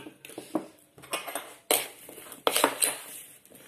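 A utensil stirring strawberries with sugar and lemon juice in a bowl, giving irregular clinks, scrapes and taps of metal against the dish, close and moderately loud with short gaps.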